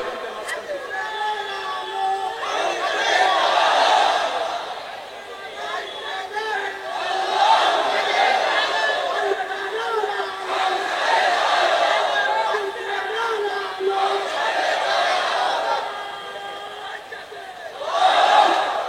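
Large crowd of worshippers at an Islamic religious gathering (waz mahfil) chanting a slogan together in loud, sustained waves of massed voices, with a fresh swell near the end.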